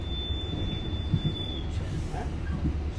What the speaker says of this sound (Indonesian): kereta api komuter lain Supas diberangkatkan dari stasiun Sidoarjo